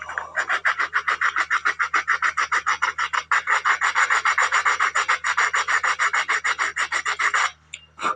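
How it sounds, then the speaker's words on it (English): Rough sandpaper rasps back and forth against a plastic model kit part for a MiG-19 build, in steady, fast, evenly spaced strokes, close and loud, stopping briefly near the end. "Let me get the rougher sandpaper."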